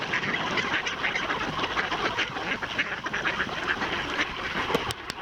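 Mallard ducks quack densely and continuously while jostling for bread, a close, busy flock with overlapping calls and no speech.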